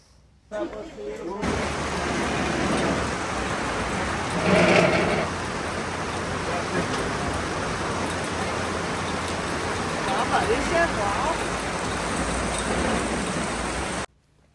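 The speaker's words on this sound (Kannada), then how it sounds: "ನಮ್ಮ ಫೋಟೋ ಸೆಷನಲ್ಲಿ ಆಗೋಷ್ಟಕ್ಕೆ ತುಂಬ ಜೋರಾಗಿ ಮಳೆ ಬಂತು." Heavy rain pours steadily in Bali during an outdoor photo session, a dense continuous hiss that starts abruptly and holds at an even level, with a brief louder swell partway through.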